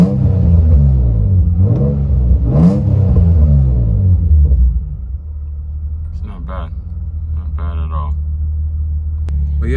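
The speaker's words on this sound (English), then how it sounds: "Give you guys a little rev." A warm Nissan 350Z with a stage 3 clutch revs hard, with loud rising and falling engine sweeps and heavy low rumble, then settles into a steady idle with faint clatter and a few brief sharper noises.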